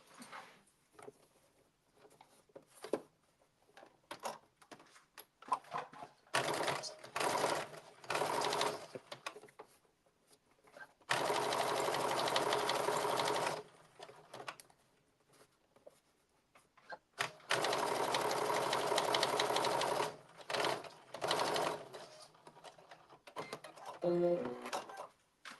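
A sewing machine stitches the welt of a blazer in several bursts, some long and steady, others short and choppy, with quiet pauses between runs.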